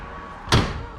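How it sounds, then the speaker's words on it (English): A door on a 2019 Audi RS3 pops open with a single short, fairly close latch-and-swing sound, then a soft lingering tail as the door settles, with no talk. "pop all the doors open."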